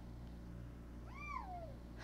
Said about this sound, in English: Kitty's going crazy.